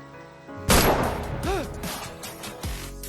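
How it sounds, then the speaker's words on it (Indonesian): A single loud gunshot as a man shoots himself in the head in a film, a sharp blast followed by a ringing, descending tonal tail and a second heavy thud near the end, against a film soundtrack. "Khalid lalu menembak kepalanya sendiri."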